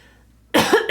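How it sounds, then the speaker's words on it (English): A single short, harsh cough bursts out close and loud after a near-silent moment, trailing into a second rough catch of breath. "I'm going to take a break because I'm coughing a lot."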